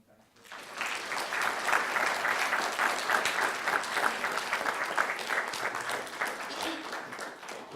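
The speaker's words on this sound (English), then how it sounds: "Let's have another round of applause and thanks." A lecture hall audience applauds at the close of a McDougall series talk on international criminal tribunals, with dense steady clapping that swells in quickly after a brief quiet start and holds evenly to the end.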